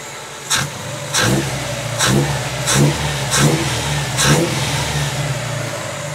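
A bagged mini truck's engine idles evenly, then revs up smoothly in six quick, regular blips, each one rising sharply and falling back to a steady idle.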